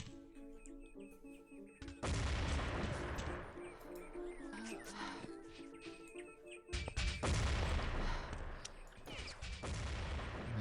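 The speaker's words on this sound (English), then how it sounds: "Nades coming in thick and fast" Grenades burst in a team shooter match during a Belgium vs Germany NationsCup game, heavy booming blasts with crackling debris and scattered gunfire among faint chirps, the loudest impacts arriving in two waves.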